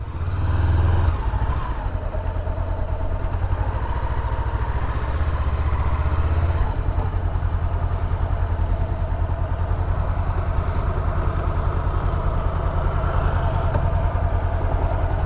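A motorcycle engine runs steadily and loudly up close at an outdoor Memorial Day moto meetup, with a brief rev at the start before it settles into a continuous rumbling idle for the rest of the stretch.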